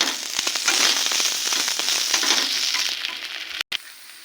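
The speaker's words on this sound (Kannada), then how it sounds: "ಇವಾಗ ಮೆಣಸಿನ್ಕಾಯಿ ಎಲ್ಲ ಚೆನ್ನಾಗಿ ಫ್ರೈ ಆಗಿದೆ" Green chilies fry in a hot pan of oil for a vegetable kurma, a dense, steady sizzle with crackling pops that runs loud and close, then cuts out briefly near the end before resuming.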